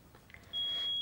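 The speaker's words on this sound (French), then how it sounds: "si je veux arriver à faire cesser ce bip" A smoke detector gives a single sustained electronic beep, loud and close, starting partway through after faint background noise.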